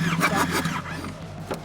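A 4WD engine cranks over during a compression test, a short, quiet, rhythmic churning of the starter heard close up with no talking.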